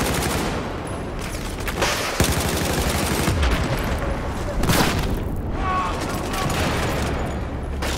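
In Battlefield 4 conquest on the Zavod 311 map, a heavy grenade explosion thumps out amid nearly continuous, close rattling gunfire, with another deep boom following shortly after through the chaotic battle noise.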